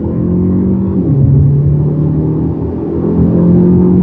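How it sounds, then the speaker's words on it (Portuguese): A Renault Boreal SUV pulls away hard from a standstill, its engine droning loud and close with a pitch that climbs as it gathers speed. No talking is heard. "Então vou tirar o pé do freio e acelerar. Vamos lá. Pisando tudo."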